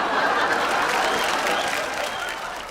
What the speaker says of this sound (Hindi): तालियां उस लड़की के लिए